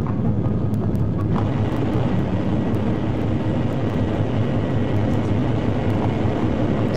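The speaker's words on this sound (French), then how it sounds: "Un appareil effectue une demi-douzaine d'atterrissages à la suite," A fixed-wing airplane on approach to land near Frankfurt at a steeper angle gives a loud, steady jet roar that holds constant throughout without any voices.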